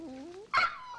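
A small dog gives a thin, wavering whimper, followed by a short sharp yelp, close and fairly quiet, all within about a second.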